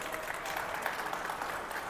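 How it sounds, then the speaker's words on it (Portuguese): Audience applause at a Python Brasil open-source session for the Langflow project team, a steady dense clapping that holds even throughout the short stretch. "Langflow, uma salva de palmas para eles."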